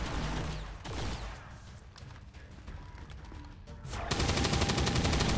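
Gunfire inside a building in the video game XCOM 2: steady, dense crackling shots and mechanical rattles that swell louder near the end, with no voices.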